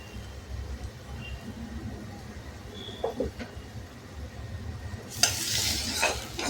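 Tomato and onion sautéing in a pan for a chana fry, a low steady sizzle that turns into a louder, brighter hiss in the last second or so as the chopped tomato hits the hot pan.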